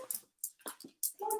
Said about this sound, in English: I'm sorry, my dog's barking